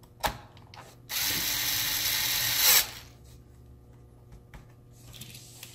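A power screwdriver removing a screw from an HP laptop during a hard drive swap, a sharp click followed by a steady whirring buzz of about two seconds, then quiet handling sounds.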